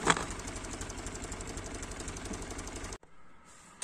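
A tractor engine runs steadily while ploughing a field, a loud, even mechanical chug with rapid regular knocking pulses, then cutting abruptly to a quieter hum near the end, with no talk.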